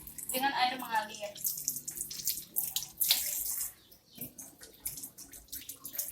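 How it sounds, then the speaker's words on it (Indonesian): A household tap runs for hand washing, its water splashing in irregular close bursts that rise and fall over a few seconds. "Kemudian yang pertama kita hidupkan keran."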